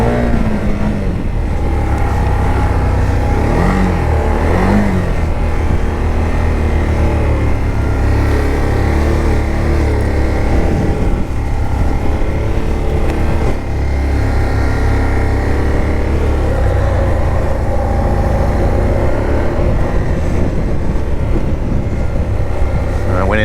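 A Can-Am Outlander 1000 XMR ATV engine revs loudly and close up on a winter trail run. Its droning pitch climbs and falls repeatedly over a continuous, rumbling idle.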